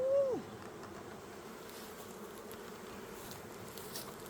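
Honey bees hum in an open hive during an inspection, a faint continuous buzz that follows a brief louder rising-and-falling tone at the start, with no talk.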